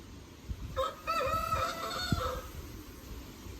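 A rooster crows once, a single harmonic call of about one and a half seconds rising and falling over a steady outdoor background, moderately near, with no talk.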